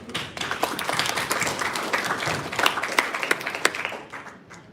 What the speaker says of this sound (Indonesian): Saya ingin mengajak tepuk tangan.